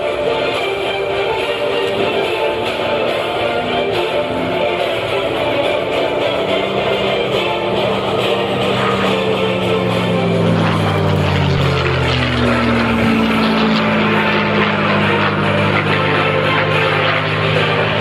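A P-51 Mustang flies at the 2015 Geneseo airshow, its propeller engine a loud, steady drone with tones that bend and slide in pitch as it passes and climbs, heard alone without talk.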